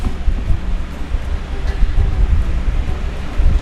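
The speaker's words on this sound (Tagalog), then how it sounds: "Mahangin." Gusty outdoor wind buffets the microphone with a steady low rumble that swells and eases throughout, with no clear talking on top.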